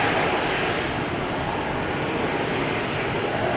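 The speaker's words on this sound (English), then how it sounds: "This is an E2 Embraer 195 going to Nice, which is nice." A KLM Embraer E195-E2 at Schiphol Airport gives a steady, loud broadband jet roar that holds evenly throughout with no voices.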